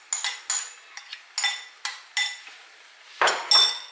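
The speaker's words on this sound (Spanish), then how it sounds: "Y vamos a seguir removiendo para mezclarlo todo muy bien." A spoon stirs chicken croquette mixture in a pan, producing repeated sharp metallic scrapes and clinks in an irregular rhythm, close and fairly clear, with no talking.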